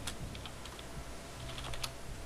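Typing on a computer keyboard, a steady run of light, close key clicks with a few louder taps, heard alone without any talk.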